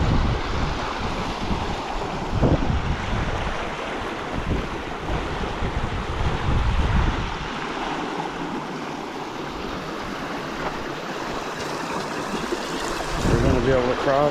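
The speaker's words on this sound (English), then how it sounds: "There's a lot of water coming through" Water rushes steadily through the site of the abandoned Trinity Loop railway, a loud broad roar heavily buffeted by wind against the microphone, with faint voices now and then.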